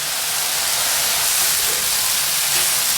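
Anchovies and shishito peppers stir-frying in a pan, a loud, steady broadband sizzle and hiss that runs continuously and close with no talk.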